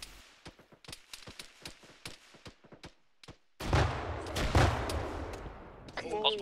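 A frag grenade goes off in the video game ArmA 3 as one loud, close blast that rumbles on for seconds, following a run of sharp, scattered gunshots.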